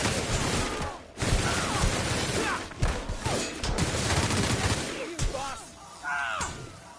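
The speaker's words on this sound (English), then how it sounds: "Let's, machine gun you." Automatic gunfire in The Outer Worlds, bursts of rapid shots rattling over several seconds amid game sounds and a talking voice, with brief pauses between volleys.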